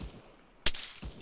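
A gunshot in the Spartan 2 video game, one sharp loud crack followed by a fainter second shot, with quiet background between.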